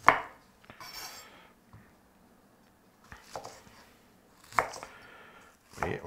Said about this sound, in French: Et on en fait des petites lamelles.